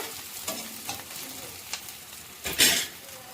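Onions frying in a pan for a ridge gourd and moong dal curry, a soft sizzle broken by several scraping spoon strokes and a louder stir near the end, close and without talk.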